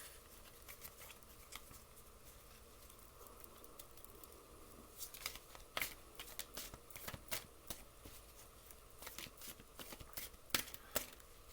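Tarot cards are shuffled by hand close by. The riffling and patting come in quiet, irregular bursts, thickening toward the end, with no talk over them.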